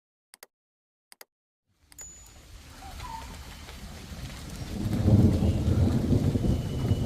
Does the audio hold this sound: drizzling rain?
yes